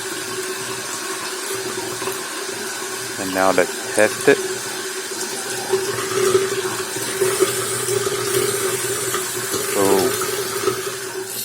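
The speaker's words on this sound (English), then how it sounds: "So the water comes out." Water streams steadily from a faucet-mounted dental water flosser into a sink, a continuous close splashing hiss, while someone talks over it and a few brief clunks sound.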